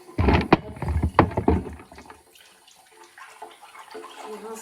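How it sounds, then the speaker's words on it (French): Dates being rinsed under a kitchen tap, with a loud splashing burst of running water and handling at first, then fading to a faint trickle and soft background noise. "je rince mes petites dattes"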